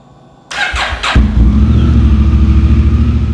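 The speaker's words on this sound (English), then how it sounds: "just warm up your bike for 2 to 3 minutes so the oil will drain easily" A Honda Africa Twin motorcycle engine cranks for about half a second, catches, and settles into a steady, loud idle as it warms up; close and continuous, with no talking.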